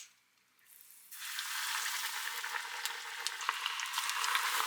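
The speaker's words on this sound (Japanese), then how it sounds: "それではカツ揚げていきます。" Breaded pork katsu cutlet deep-frying in hot oil, a dense crackling sizzle that bursts in after a moment of near quiet and then holds steady and close, with no talking.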